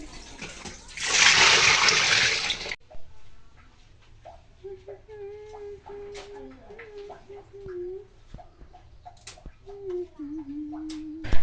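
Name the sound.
water washing and cleaning beef feet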